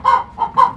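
A chicken clucks three times in quick succession, close and clear.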